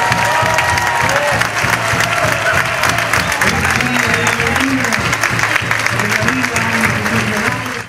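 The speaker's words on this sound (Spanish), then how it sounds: "Acompañamos con un aplauso." Sustained applause from a crowd at the ribbon-cutting inauguration of Hospital Santa María in San Miguel, steady and loud throughout with some cheering mixed in.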